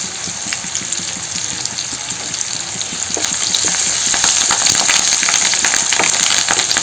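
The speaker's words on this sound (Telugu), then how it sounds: "ఇది చక్కగా వేగాలి." Onions and curry leaves fry in oil for vankaya pacchi karam, making a loud, dense, continuous sizzle that grows stronger partway through, close up with no talk.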